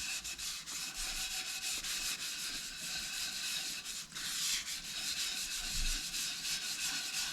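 A cloth rubs finish steadily into laburnum wood, producing a continuous close scratchy swishing that sounds like sandpaper, with even back-and-forth strokes and brief pauses, loud and alone.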